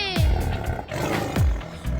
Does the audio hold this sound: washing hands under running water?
no